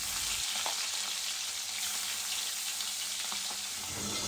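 Tengra fish frying in hot oil, a dense, continuous hiss and crackle up close with a couple of faint knocks, no voices.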